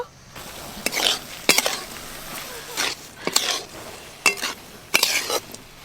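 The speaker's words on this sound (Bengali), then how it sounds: "এইভাবে নেড়ে নেড়ে পুরো চিনির সিরাপটা আমি শুকনো করে নেব" A spatula scrapes and stirs sugar syrup in a pan as it cooks down until dry, giving intermittent bursts of close, gritty scraping separated by brief quieter gaps.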